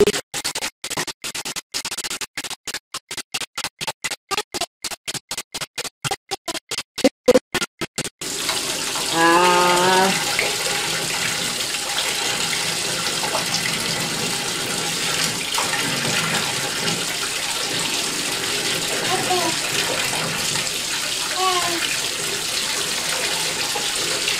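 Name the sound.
water in a bathtub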